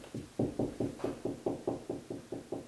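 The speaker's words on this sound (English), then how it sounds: "I'm going to do some knocking." Knuckles knock on a ceiling while searching for a floor joist, producing about a dozen evenly spaced, hollow thuds in a steady rhythm, close and fairly loud.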